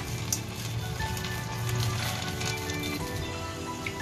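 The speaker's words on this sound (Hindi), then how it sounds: "अब इन्हें हम डीप फ्राई करेंगे। ऑयल गर्म हो चुका है, मैं बॉल्स डाल दे रही हूँ।" Sama rice balls deep frying in hot oil over a medium flame, a dense, continuous crackling sizzle that stays steady and close throughout.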